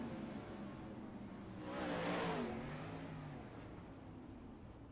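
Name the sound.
410 sprint cars racing in the iRacing video game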